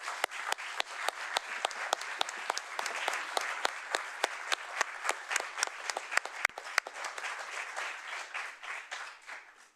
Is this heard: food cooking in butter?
no